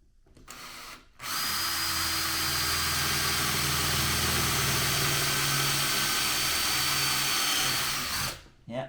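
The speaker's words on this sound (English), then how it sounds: "Right, we'll drill it out again." A power drill whirs steadily at close range drilling into aluminium on a Land Rover Defender tailgate, starting after a brief pause and winding down at the end.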